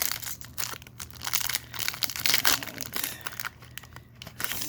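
A Pokémon Unified Minds Darkrai booster pack is torn open: close, loud foil crinkling and crumpling in irregular bursts, with brief quieter pauses between handling sounds.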